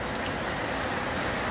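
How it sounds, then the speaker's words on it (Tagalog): Heavy rain pours down steadily in the Philippines, a dense, even hiss of drops on surfaces that stays loud and unbroken throughout. "lakas na ng ulan"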